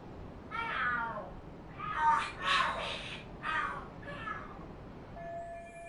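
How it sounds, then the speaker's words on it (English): Cats fighting in the video game Lost Judgment let out a run of drawn-out wailing yowls and screeches, in several rising bursts at moderate volume, with no talking. "Are there cats fighting? What are they screaming for?"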